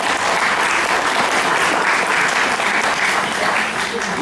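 A debate audience applauds in a dense, steady burst of many hands clapping, close and loud, holding evenly for about four seconds without a break.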